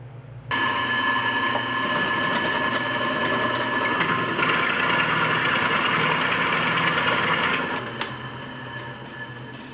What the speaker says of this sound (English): So now we're going to be using a drill press.